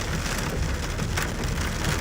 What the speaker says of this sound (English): The rain's starting to let up a little bit here.